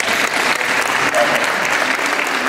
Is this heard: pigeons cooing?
no